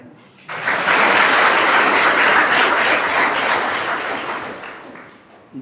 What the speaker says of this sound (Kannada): ಪೂರ್ಣ ಚಪ್ಪಾಳೆ ಹೊಡೆರಲ್ಲ.